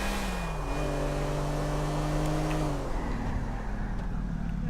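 A car in GTA IV engine builds revs through rising gear tones, then drops off sharply as it brakes to a stop, with road noise lingering underneath.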